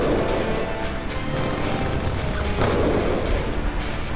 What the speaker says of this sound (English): We're taking fire from all sides.